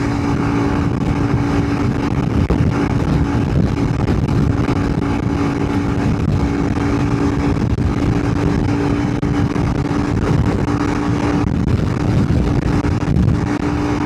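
A big-bore Honda CRF300L rally motorcycle riding uphill at cruising speed, a loud continuous engine drone mixed with heavy wind rush, steady throughout with no talking.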